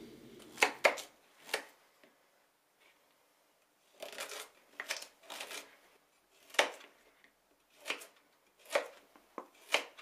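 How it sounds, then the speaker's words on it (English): Carrots being chopped into chunks on a board, heard as clusters of sharp, close knife strikes in uneven bursts with short quiet gaps between them and no talk. "trim the ends from the carrots and peel each one, and then chop each one into chunks"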